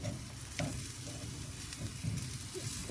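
Chicken wings sizzle on a grill, a faint, steady crackling hiss with occasional small pops and light shuffling, with no talking.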